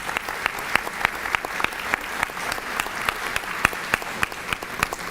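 An audience at a school board meeting's Gold Key awards applauds elementary and academy students, a steady patter of many clapping hands, moderately loud and continuous.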